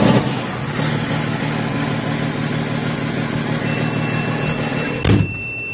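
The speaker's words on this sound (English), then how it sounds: "Exactly a cold start. It's t-shirt weather. I'll show you down here because there's a hole in the exhaust." A vehicle engine idles loudly and close by after a cold start on a warm day, with a hole in the exhaust. The rough, steady drone holds throughout, with a brief thump near the end.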